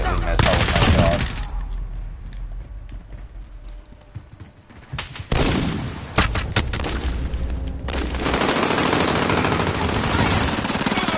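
Rapid automatic gunfire in Call of Duty Modern Warfare, loud close bursts with booming impacts and sharp rattles, broken by brief quieter gaps between volleys.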